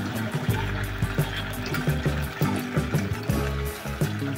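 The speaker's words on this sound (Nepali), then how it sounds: "तातो पानी हालेर चाहिँ सफा गर्न लागिरहेको छु" Hot water is poured and trickles steadily to clean something in a village setting, a continuous wet splashing with irregular soft knocks throughout and no talking.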